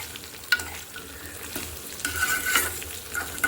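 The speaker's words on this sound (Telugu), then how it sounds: "ఆయిల్లో మొత్తం కలిసేలాగా చక్కగా కలిపేసుకున్న తర్వాత మూత పెట్టేసి చక్కగా మగ్గనిద్దాం" Sliced bitter gourd (kakarakaya) is stirred in hot oil in a pan, giving a soft continuous sizzle with scraping and stirring strokes and a few light clinks, fairly close, with no talking.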